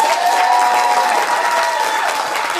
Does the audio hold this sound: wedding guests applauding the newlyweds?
yes